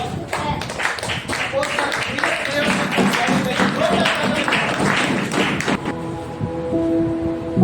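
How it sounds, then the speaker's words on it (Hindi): A Pentecost Sunday church congregation claps loudly and rhythmically, sharp hand slaps mixed with voices. The clapping stops near the end and a sustained musical tone takes over. "आइए जोरदार तालियों के द्वारा"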